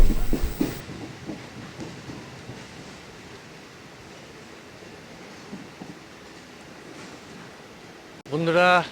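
A Sealdah to Dankuni local train runs with a steady rumbling roar heard from on board, while a voice speaks briefly at the start and again at the end.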